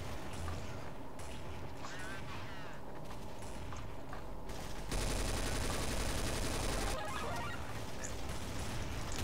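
Rapid automatic gunfire from Counter-Strike: Source gun game mode rattles continuously, swelling into a dense, louder burst midway, with shouted voices and other game noise mixed over it.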